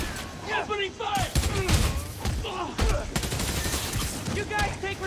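Gunfire in the video game Spider-Man Miles Morales plays as a dense fusillade of shots mixed with game effects, with voices speaking over it.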